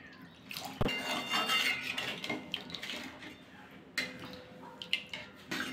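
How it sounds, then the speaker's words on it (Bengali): Water is poured into a pot of chicken soup, splashing and trickling with a few metal clanks of the pot, close by and moderately quiet. "আর একটু জল দিয়ে দেব।"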